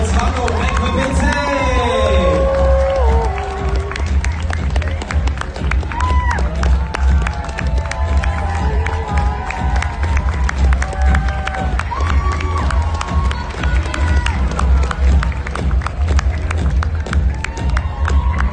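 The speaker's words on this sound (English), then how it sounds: "big round of applause for Taco Equipmente" An audience cheers and applauds amid loud crowd noise, with shouts, whistles and voices rising over steady clapping for a performer at a live show.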